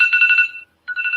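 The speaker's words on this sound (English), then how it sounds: "Sorry, that's my phone." A mobile phone ringtone, which here is actually a morning alarm, sounds loudly and up close in two bursts. A warbling tonal pattern plays, pauses briefly, then starts again.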